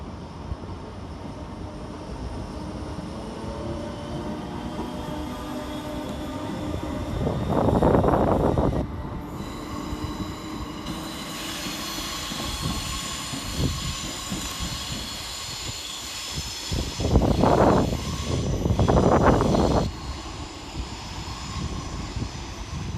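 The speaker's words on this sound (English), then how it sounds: "Next out for departure for Northern is 319370, working the 1804 Northern service of Liverpool Lime Street to Wigan" A Northern class 319 electric multiple unit, 319370, departs Edge Hill station in Liverpool, a sustained rising electric whine and rumble with rail noise building and fading, plus a couple of louder bursts of passing sound.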